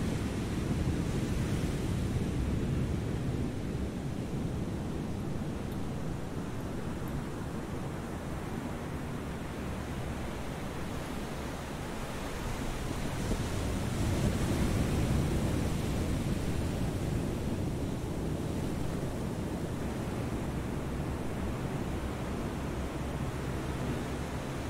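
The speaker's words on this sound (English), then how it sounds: "I think that was just waves breaking." Waves breaking at sea in the War on the Sea naval video game, a steady broadband wash of surf that swells slightly around the middle, continuous and fairly loud with no talk.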